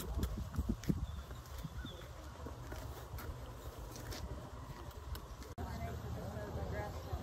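A Hard Spun filly walking in Ocala, her hooves clip-clopping in an irregular rhythm, moderately close under steady outdoor background noise with buzzing insects, while a person talks nearby.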